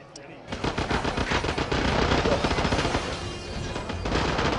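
Rapid automatic gunfire in the shooter game Resistance: Burning Skies, a dense sustained burst starting after a brief pause and running continuously at close range, loud and steady throughout.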